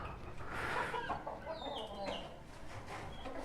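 A hen clucking inside a backyard coop among other caged poultry, a steady busy cackle of several birds up close with background chatter.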